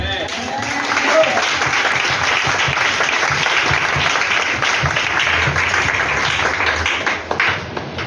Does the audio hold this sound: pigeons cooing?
no